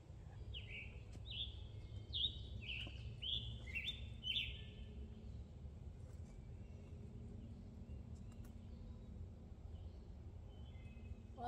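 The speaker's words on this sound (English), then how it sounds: "A lot of the birds sound kind of distant right now." Faint, distant bird calls on a farm repeat in a short series of high chirps early on, then fade, leaving a low rumbling background hum.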